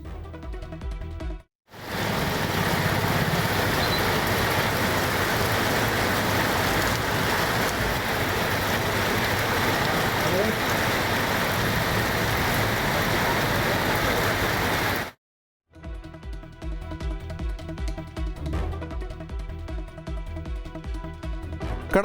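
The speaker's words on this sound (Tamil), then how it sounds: "சிவகாசி, திருத்தங்கல், சித்துராஜபுரம், சாட்சியாபுரம் உள்ளிட்ட பல்வேறு பகுதிகளில் விட்டு விட்டு மிதமான மழை பெய்தது" Rain falls steadily on streets in Sivakasi, Tamil Nadu, a loud, even hiss lasting about thirteen seconds that cuts off abruptly and gives way to a different, quieter sound.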